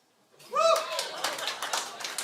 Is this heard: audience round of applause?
yes